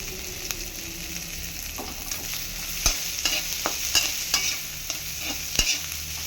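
Oil sizzles steadily in a pan as chopped onions fry, with intermittent scraping and clinks of a spatula stirring them.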